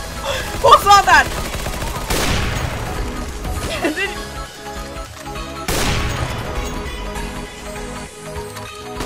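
Rapid bursts of gunfire from Counter-Strike: Global Offensive, several loud clusters of shots cracking out in quick succession with heavy booming impacts, mixed with excited voices.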